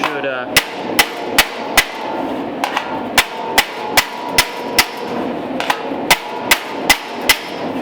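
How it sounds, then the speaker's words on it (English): Sharp metallic hammer strikes on a dolly against sheet metal of a 1930 Ford Model A door flange ring out one after another at a steady pace, loud and close, each hit followed by a short ringing decay. "what we'll need to do is hammer on dolly, a couple quick strikes"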